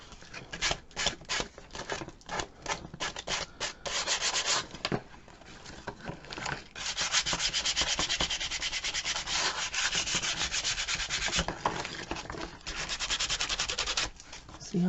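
The edge of a decoupaged Dollar Tree calendar is being sanded in close, scratchy rubbing strokes: short rhythmic passes at first, then longer sustained scrubbing, with no voices.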